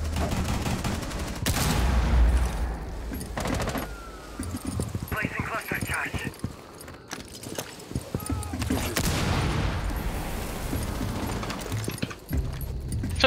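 Gunfire from a Rainbow Six Siege match, with bursts of rapid shots and clustered reports over steady game noise, the shooting loud and close in several volleys.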